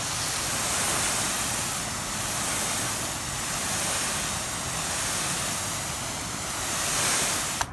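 Steady water spray rinsing dirt off a ceramic-coated car, a continuous broad hiss that swells and eases in gentle waves for several seconds with no voices.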